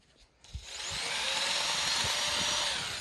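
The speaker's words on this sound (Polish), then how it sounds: "jednak tutaj też trzeba wjechać wiertarą i już, tam będzie się cykać" Power drill boring into a Peugeot TU1M engine block during a rebuild, starting after a few faint knocks and then running as a steady, loud high-pitched whine with grinding rasp, close by and without talk.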